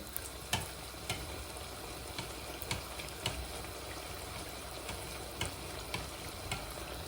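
Pişi dough frying in plenty of hot oil, a steady dense sizzle with scattered crackles and soft spoon clicks throughout, close and moderately loud, no voices.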